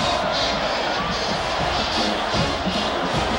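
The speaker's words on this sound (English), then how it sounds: "This crowd is getting a little restless." Restless stadium crowd at a 2004 Tennessee vs Georgia college football game, a dense continuous roar of murmuring and shouting with rising waves of noise, fairly loud and steady throughout.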